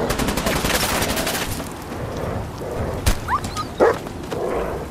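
In Fallout 4, a dog barks amid gunfire, with sharp shots and bursts punctuating a busy, noisy firefight mix; a few yelps and cracks stand out toward the end.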